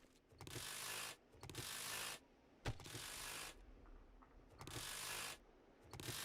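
Wrench harvesting in 7 Days to Die: repeated bursts of grinding, ratcheting mechanical noise about a second each, separated by short pauses, with one sharp metallic clank partway through.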